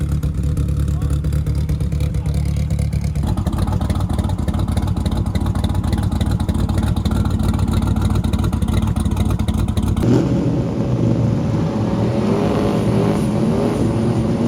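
A class 10 off-road racer's engine roars loud and close without a break, its tone shifting as the revs climb and settle through the whole stretch.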